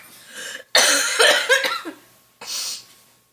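A harsh, loud cough burst, a few rough hacks in a row, followed by a shorter breathy cough after a brief pause.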